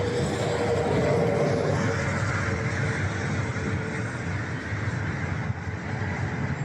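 Cars stream across an interstate bridge near Valley Forge outside Philadelphia, a continuous broad traffic roar from moderately far off, steady with slight swells as vehicles pass.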